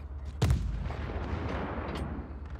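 Fixed ship cannons firing a broadside in the video game Just Cause 4: one sharp, loud boom followed by a rolling, rumbling tail and fainter distant blasts, with no talk over it.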